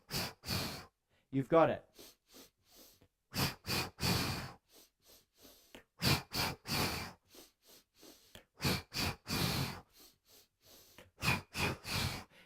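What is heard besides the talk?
deep three-part breathing, inhales and exhales during yoga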